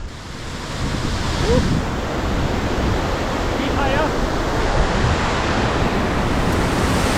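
Steady roar of rushing water fills the whole clip, a dense constant wash like a nearby waterfall, with some wind noise over it.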